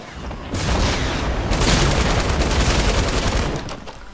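A light machine gun in Fortnite fires a sustained, rapid stream of loud shots at close range, lasting several seconds before tapering off.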